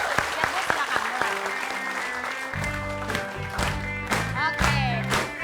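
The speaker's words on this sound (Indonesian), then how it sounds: "Kita kasih tepuk tangan sekali lagi buat Baik. Ibu Dahlia." Audience applause at a lively Indonesian TV variety show, steady clapping with music and a voice over it.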